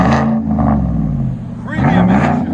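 A 2018 Chevy Suburban 5.3L V8 with straight-pipe dual exhaust rumbles loudly up close, holding a deep throaty idle and then swelling into a rev near the end.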